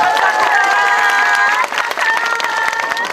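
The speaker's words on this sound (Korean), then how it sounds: "김남일 부시장님과 그리고 득화스님께 큰 박수 부탁드리겠습니다" Festival audience applauding at a family culture festival in Pohang, a loud burst of clapping and cheers with a sustained tonal music or feedback line running beneath, dipping briefly midway before continuing.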